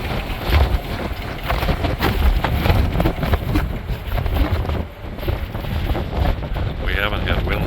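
Strong wind roars and buffets the microphone continuously near Bergen, Norway, with gusty low rumbling throughout and a voice faintly present underneath.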